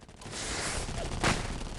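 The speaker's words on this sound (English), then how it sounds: "Let's use another firecracker." In The Collectables mobile game, a firecracker goes off as a sharp crackling burst about two-thirds of the way through, rising out of a dense, noisy battle soundscape with no speech.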